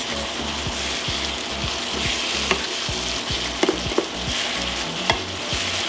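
Meat frying in a pan with ground sweet red paprika, stirred in close-up: a steady sizzle broken by regular scraping strokes, with a few sharp clicks of the utensil against the pan.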